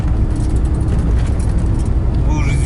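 A car drives home along a rough, badly potholed road, its steady engine and road rumble loud and close throughout, with a faint voice briefly audible near the end.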